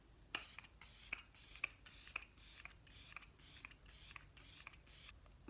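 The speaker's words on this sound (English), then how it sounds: "let me go ahead and set with some setting spray" Makeup setting spray is pumped from a bottle in a run of about eleven quick, evenly spaced hissing sprays, close and fairly quiet, with no talking.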